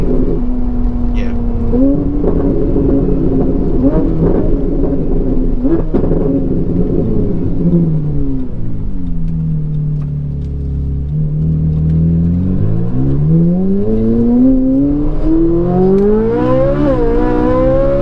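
Ferrari 488 supercar exhaust, loud engine revving that rises, dips and climbs again in long sweeping pitch changes while people talk over it.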